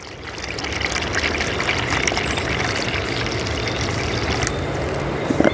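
Sour orange and ginger juice mixture pours into a plastic bag for Jamaican suck suck, a steady splashing trickle that runs throughout with no one talking.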